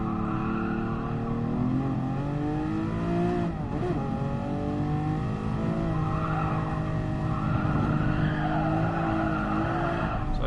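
A race car in GT Sport snaps into oversteer and slides, loud sustained tyre squeal layered over a high revving engine whose pitch wavers and dips as the car skids and recovers.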